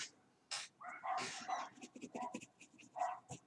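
The neighbors' dogs bark and yip in short, scattered bursts while playing outside, heard faint and distant with no talking.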